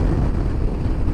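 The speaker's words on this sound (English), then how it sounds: "Jesus, very windy today." Strong gusting wind batters a motorcycle rider's microphone on a Scottish coastal road, a loud continuous roar of low buffeting without any talk.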